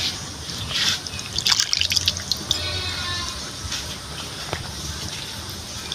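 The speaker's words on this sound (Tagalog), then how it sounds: "Buhos lang natin. Gata." Coconut milk pours onto cleaned squid for a spicy Filipino dish, a close liquid trickle and splash that gushes briefly, then settles into softer drips over a quiet kitchen background.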